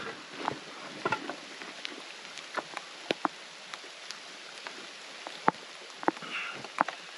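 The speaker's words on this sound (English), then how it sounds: "And now the rains came." Rain falls at a solo campsite in a steady hiss, with scattered louder drops tapping on nearby surfaces and no talk.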